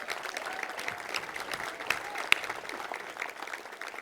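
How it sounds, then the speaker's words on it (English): Steady applause fills an arena crowd at a ribbon-cutting ceremony for the Chase Center, a continuous dense clapping that holds level throughout with a couple of sharper claps standing out. "Bigger applause, bigger."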